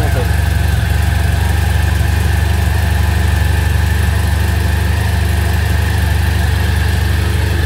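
A BMW F 700 GS motorcycle engine idles steadily up close, a loud, even mechanical thrum that resonates through its skid plate, with a voice faintly audible over it.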